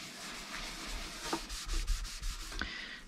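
Steady rubbing of a cloth polishing a vintage Bell Colt plastic radio case with Autosol polish, close and fairly quiet, with rhythmic strokes and a few light knocks.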